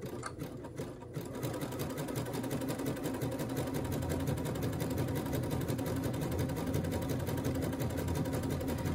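A sewing machine runs a zigzag stitch at 3.5 mm width and 1.4 stitch length through a 7mm hemming foot. After a brief stuttering start, it settles into a steady, rapid, close whirring that continues unbroken.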